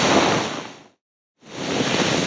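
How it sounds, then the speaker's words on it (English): Flame-like texture layer for a fire magic spell sound design: steady, broadband roaring hiss that fades out, falls silent briefly, then swells back in, loud and close. "After that, I layer the flame-like texture,"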